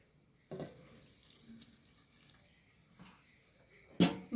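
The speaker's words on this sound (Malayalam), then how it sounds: "കുറച്ച് വെള്ളം ഒഴിക്കുന്നുണ്ട്" Water poured into a cooking pot while making a taro-stem curry, with two short splashy bursts of pouring separated by quieter moments of faint handling, close and soft.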